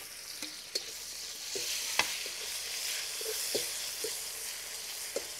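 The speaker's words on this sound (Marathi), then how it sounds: "टमाटे 1 ते 2 मिनिटं परतून घेऊ" Onion and tomatoes sauté in a pan for mutton pulao, giving a steady close sizzle and hiss broken by several sharp clicks and scrapes of a spoon stirring against the pan, with no voices.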